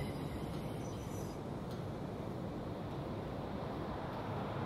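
A Class 318 electric multiple unit departing in Train Simulator Classic, a steady loud rumble of wheels and motors rolling on the rails, continuous and close with no speech.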